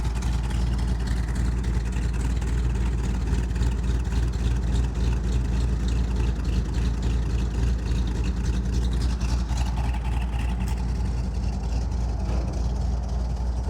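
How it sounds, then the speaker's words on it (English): A deep, steady engine rumble with throaty exhaust from a 1970 Dodge Challenger R/T with a 440 V8, running continuously and close by, with no voices. "Exhaust sounds awesome."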